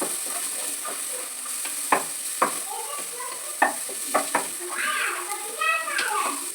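Masala with turmeric fries in a pan for an egg curry, a soft continuous sizzle under several sharp spoon taps and scrapes, with a voice briefly audible toward the end.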